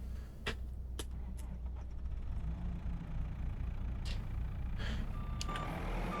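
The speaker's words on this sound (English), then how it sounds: "We'll leave the truck running for a minute." A truck sits idling in Farming Simulator, its engine a steady low drone throughout, with a few sharp clicks and knocks scattered over it and a faint short beep near the end.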